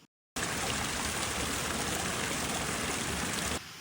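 The waterfall at Tivoli, Italy roars as a dense, unbroken rush of falling water, loud and steady after a brief silent gap at the start, with no voices over it.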